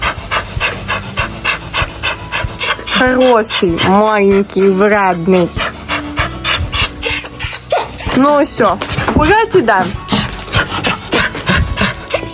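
A dog pants and whimpers with excited, rhythmic breaths while a person talks cheerfully over it close by.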